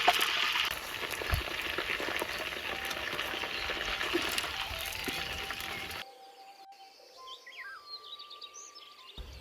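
Chicken pieces frying in hot oil with chili spices for a spicy village-style basil chicken dish, a steady sizzle and crackle running for about six seconds before dropping to a faint background with thin chirps.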